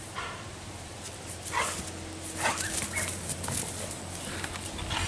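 Dog playing fetch outdoors with a child, giving a few scattered barks and yips over faint background noise.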